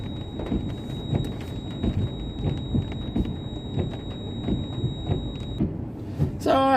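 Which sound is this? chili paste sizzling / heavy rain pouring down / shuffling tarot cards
heavy rain pouring down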